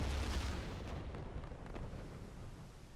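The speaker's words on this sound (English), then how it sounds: "Should detonate right on the side." A torpedo detonates against a ship's side in a World War II submarine game aboard UIT 25, heard as a deep, sustained rumbling boom that slowly fades, with no talking.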